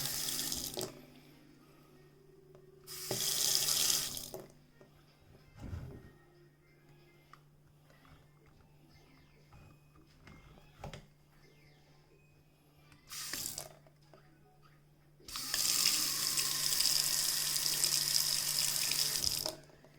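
Water gushes from a newly installed single-handle kitchen faucet in bursts, first flowing dark, with several loud runs separated by quieter pauses and clicks of the handle.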